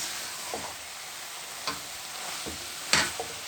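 Spiced cauliflower and potato fry being stirred in a pan, a few soft scrapes and clacks at irregular intervals over a faint sizzle, quiet and close with no talking.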